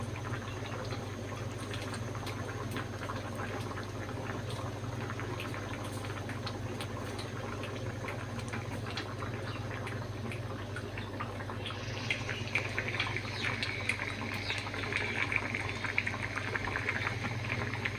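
Vegetables boiling in a pot nearing done, a continuous low bubbling simmer with a steady hum beneath, growing slightly busier and brighter toward the end, with no talking.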